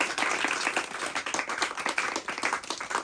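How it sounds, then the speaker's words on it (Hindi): An audience claps in a lively, continuous round of applause, many hands at close to moderate distance, with individual claps showing as quick pulses that rise and fall over three seconds. "सीवीयू के लिए तालियां बजा दें हम,"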